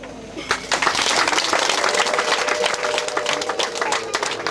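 Wedding guests break into applause, a dense, lively burst of clapping from a large crowd that starts sharply and carries on steadily, with voices mixed in.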